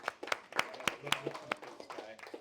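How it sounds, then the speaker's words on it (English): Sparse, distinct hand claps ring out from a small audience at a talk on real estate investing and AI, a handful of separate claps spread over a couple of seconds with faint talk. "Can we give Joel a round of applause?"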